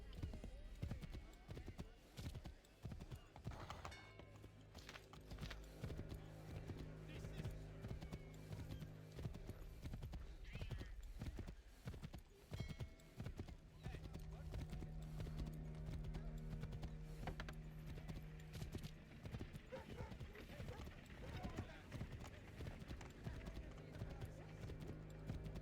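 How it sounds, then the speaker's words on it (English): Horse hooves clip-clop in a steady walking rhythm in the Assassin's Creed 3 Remastered video game, a repeated patter running under game sound and someone talking over it. "Yo, free horse."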